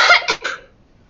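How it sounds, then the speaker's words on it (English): A person lets out a harsh, horrible cough, two or three quick rasping bursts in close succession, loud and near, fading out within a second. "sorry about that. Horrible cough."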